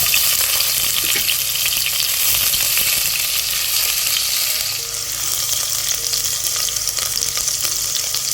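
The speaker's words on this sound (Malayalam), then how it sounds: "പാൻ ചൂടായപ്പോൾ ആവശ്യത്തിന് വെളിച്ചെണ്ണ ഒഴിച്ചു കൊടുത്തിട്ടുണ്ട് ഒരു ടീസ്പൂൺ പെരിഞ്ചീരം ഇട്ട് കൊടുത്തിട്ടുണ്ട്" Fennel seeds and other whole spices fry in hot coconut oil in a pan for a Kerala chicken dish, giving a close, loud, constant sizzle with fine crackle and no pauses.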